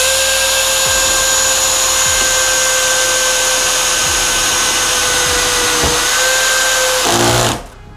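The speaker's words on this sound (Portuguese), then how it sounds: "Agora parafusamento em metalão com parafuso alto brocante 12x1 polegada" A Bosch GSB 185-LI cordless drill drives a 12x1 inch self-drilling screw into metal tubing, a loud, steady high whine for about seven seconds that drops pitch slightly under load before the motor cuts off abruptly.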